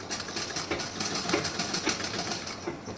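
Sewing machine running steadily while double-stitching a blouse, a fast even mechanical rattle of needle strokes, close and moderately loud with no pauses.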